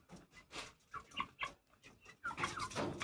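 Grey hen chicken clucking in short, irregular bursts of calls, fairly close, with brief pauses and some rustling between them.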